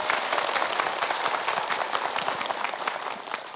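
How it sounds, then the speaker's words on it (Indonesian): An audience of women from a Muslim religious gathering applauds in a sustained burst of dense, even clapping that fills the room for a few seconds, with no talk over it. "Tepuk tangan dulu."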